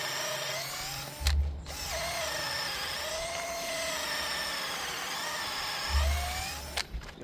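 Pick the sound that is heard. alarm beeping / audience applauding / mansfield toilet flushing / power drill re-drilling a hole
power drill re-drilling a hole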